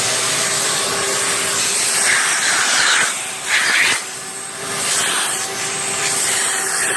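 A vacuum brake bleeder sucking fluid through the brake line of a GY6 scooter, a steady loud hiss with airy whooshing swells and small dips as suction draws through.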